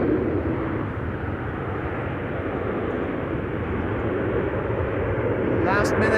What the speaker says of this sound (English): And reversers being used. Actually being used by the Embraer.